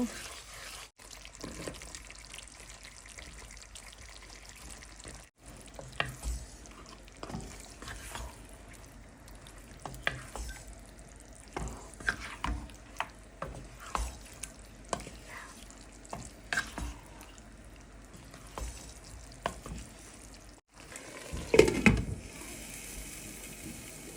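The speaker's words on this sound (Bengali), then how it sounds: "হালিমা মশলাটা ভালো করে কষিয়ে নিয়েছি এখন আমি মাংস দিয়ে দিব" Meat being stirred into haleem spice paste in a pan: intermittent scraping and stirring clatter over a faint steady sizzle, with a louder burst of stirring near the end and no talk.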